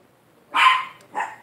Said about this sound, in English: My dogs are fighting each other.